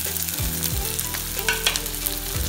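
Crushed ginger fries in hot oil for Kerala fish pickle, giving a steady close sizzle with light stirring scrapes throughout and no voices.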